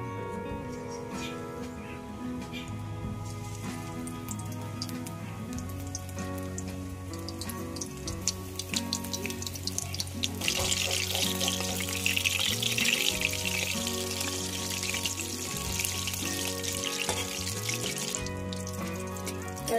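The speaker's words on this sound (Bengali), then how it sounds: "এই ব্যাটারের মধ্যে মাছটা ডুবিয়ে তেলে ছাড়তে হবে।" Battered amudi fish pieces dropped into hot oil in a kadai fry with a crackling, bubbling sizzle that grows louder midway, set against steady background music.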